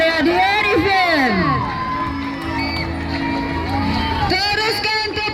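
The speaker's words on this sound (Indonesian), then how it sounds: "Terus tepuk semangat." Students at a school sports meet at SMK Tamparuli cheer, shout and whoop during a torch run, with loud excited voices rising and falling together close by.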